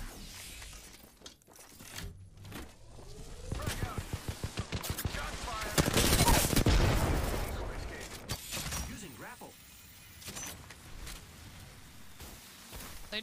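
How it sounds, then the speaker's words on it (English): Gunfire in the Apex Legends battle royale game: rapid bursts of automatic shots build to a dense, loud volley mid-clip, then thin out into scattered shots, with voices talking over the action. "I am taking fire."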